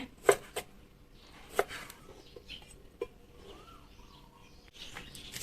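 A few sharp, separate knife chops through cucumber on a cutting board at irregular intervals, with faint bird chirps and quiet background noise between them.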